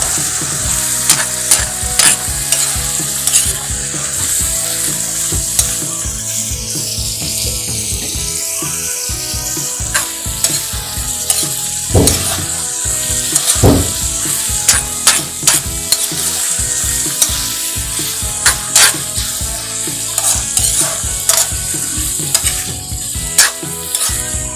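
Kangkong and tofu in oyster sauce sizzle and crackle steadily in a hot pan, with repeated scraping stirs and utensil clinks throughout and no voices.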